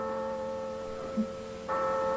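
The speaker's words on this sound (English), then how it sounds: "Why is that bell ringing?" A church passing bell rings with sustained, humming tones that swell into a louder, brighter strike near the end, heard alone without voices.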